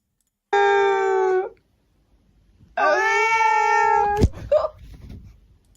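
An angry cat lets out two long, drawn-out meows, the second louder and rising into a caterwaul that ends abruptly in a scuffle. A brief quiet gap separates them, with faint background noise.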